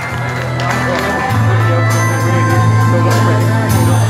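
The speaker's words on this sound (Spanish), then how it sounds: "Fuerte aplauso para Orlando." A bar crowd cheers and applauds for Orlando, a loud, sustained mix of clapping, shouts and whoops that swells and holds, with a low musical hum underneath.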